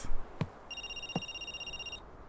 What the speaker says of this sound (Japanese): 電話出ます。